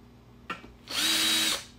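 Power drill spinning a chamfer bit to break the edge of a hole before tapping, a short whirring burst of about half a second with a faint click just before, close and loud with no talk.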